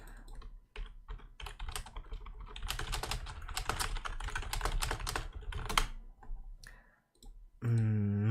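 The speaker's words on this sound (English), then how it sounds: "Epic keyboard clicking noises." Rapid computer keyboard typing and clicking, close and fairly loud, in dense bursts across most of the stretch, during map design work in Unity; a short tonal sound enters at the very end.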